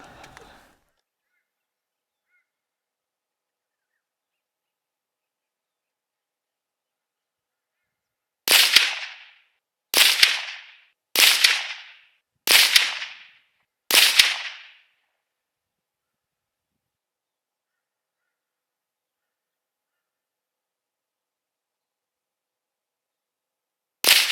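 Shots from a .22 Magnum rifle firing Armscor 40-grain JHP ammunition at a range, five sharp cracks about a second apart, then a long silence and one more shot at the end.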